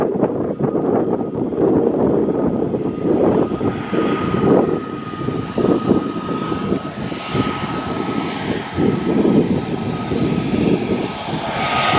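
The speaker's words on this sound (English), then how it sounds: "There's Tui off in the sky." A TUI airliner passes overhead near Tenerife airport, a steady loud jet engine roar with a faint whine, sustained throughout and buffeted by wind against the microphone.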